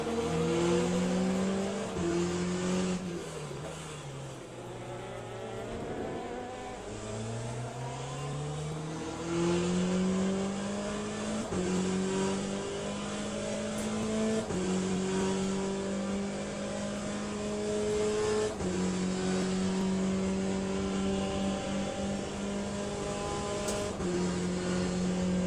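A hypercar racing engine in the game Le Mans Ultimate roars loud and continuous, pitch climbing through the gears and dropping on shifts, with high revs and the hum of other cars close behind.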